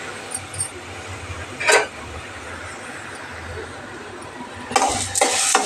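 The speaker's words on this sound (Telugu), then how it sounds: "కడాయి పెట్టుకున్న మన కడిగిన మినపప్పుని వేసుకుని దూరగా వేయించేసుకోవాలి" Washed black urad dal is dry-roasted in a kadai over low heat, with soft scraping stirs and a few sharper clinks of the spoon against the pan, one burst near the start and a busier run at the end.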